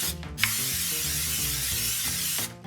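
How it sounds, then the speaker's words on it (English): Flavored cooking spray such as Pam or butter spray hisses into a casserole dish: a short puff, then one steady, close spray lasting about two seconds before it stops. "I always prepare my casserole dish with some flavored like Pam or butter spray"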